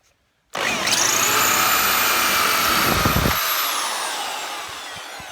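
Power drill boring out a pop rivet in the rusty sill of a classic Fiat 500 during restoration, a loud continuous high whine starting abruptly and running steadily before slowly easing off, close up with no talk.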